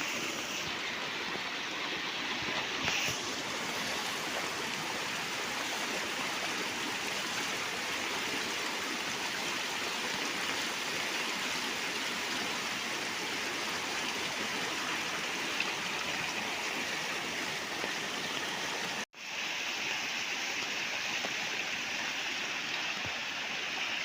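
Floodwater rushing steadily through an irrigation channel toward paddy fields during a Konkan flood, a continuous close broadband roar with no break, a brief sharp dropout near the end, no speech.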